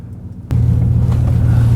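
A RAM truck's engine starts up abruptly into a steady low rumble, close and loud, idling or pulling away.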